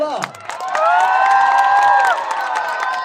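A crowd at an on-stage birthday celebration cheers loudly, high excited voices swelling into a sustained held scream for a couple of seconds before fading into lighter scattered noise.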